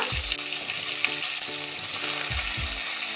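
Papaya, pointed gourd, beans, raw banana and potato frying in oil, a dense continuous sizzle close up with a few low thumps and scraping stirs, no voices.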